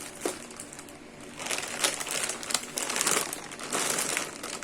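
A plastic bag of frozen chicken nuggets, one kilo, crinkles and crackles as it is handled up close, with bursts of crumpling that grow busier in the second half.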